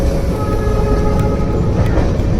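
A passenger train on a long-distance run from Bikaner toward Kerala gives a loud, continuous low rumble and rolling roar from inside the carriage, with faint rhythmic wheel clatter throughout.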